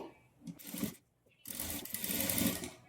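A sewing machine stitches a double-folded band on a Katori blouse, with a short whirring run, a brief stop, then a longer steady stretch of close, fairly quiet stitching.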